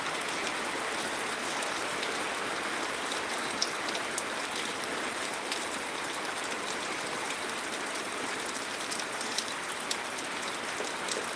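A dense downpour of thick raindrops in Changanacherry, Kottayam, Kerala hisses and patters steadily on surfaces throughout, close and unbroken, with occasional sharper drop hits and no talk.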